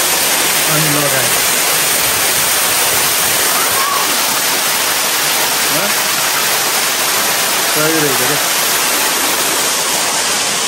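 Water pours from a pipe overhead in Mayfield Garden, a loud continuous splashing rush, while a voice speaks briefly at a few points beneath it.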